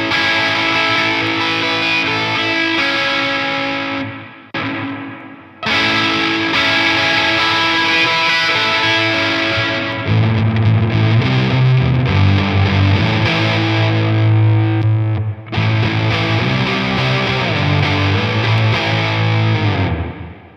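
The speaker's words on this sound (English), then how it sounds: "we'll listen to distortion into reverb first" An electric guitar runs through a Walrus Audio Melee pedal set for distortion into reverb, giving a loud, fuzzy wall of sustained chords with long washy tails and a couple of brief gaps between strums.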